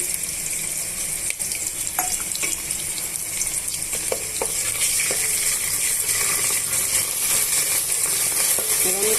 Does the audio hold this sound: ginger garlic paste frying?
yes